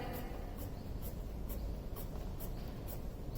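Pencil shading on paper for a still life drawing, soft rhythmic scratching strokes repeating about twice a second, close and quiet with no talk.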